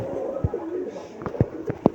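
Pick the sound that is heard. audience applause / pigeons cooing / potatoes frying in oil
pigeons cooing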